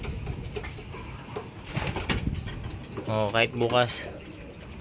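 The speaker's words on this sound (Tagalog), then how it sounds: "nabigla yung mga ibon eh" Racing pigeons coo in a few throaty, warbling bursts, close by at a loft, with wing flapping and rustling under a brief spoken remark from a man.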